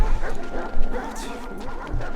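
Dogs bark and yap close by in the video game Valiant Hearts: The Great War, giving a short burst of rough, excited barking over background game noise.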